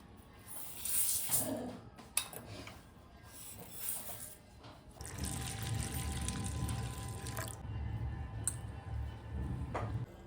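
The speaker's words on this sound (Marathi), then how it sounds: "आता आपण सर्व डाळी धुवून घ्यायच्या आहेत। 2-3 पाण्याने स्वच्छ धुवून घ्यायचं" Several kinds of dal are rinsed in water by hand for veg dalcha rice, with sloshing and swishing that comes in waves, a few sharp knocks, and a steadier wet churning through the second half.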